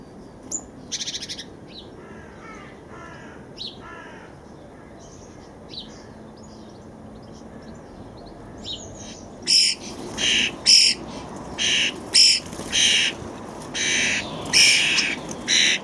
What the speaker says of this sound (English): I get quite a good range of birds, ranging from the sparrows, starlings, grey tits, blue tits, robin, goldfinch and even the odd woodpecker.